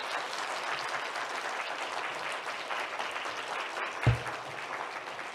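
A church congregation at a Friday prayer meeting applauds to welcome a visiting pastor: steady, moderately loud clapping fills the whole stretch, with one brief thump near the end.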